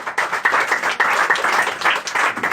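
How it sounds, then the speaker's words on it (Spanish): A church congregation claps hands together in a steady, rhythmic pattern of sharp, fairly close claps that continues throughout, with no speech over it. "Dale palmas."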